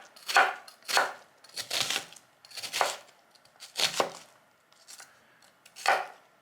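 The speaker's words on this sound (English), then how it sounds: "And then here's my quarter of an onion. That's all you need for 1 serving. We're going to chop this." A knife chops through a quarter onion on a board in seven distinct crisp strokes, irregularly spaced and close up, with quiet pauses between cuts and no talking.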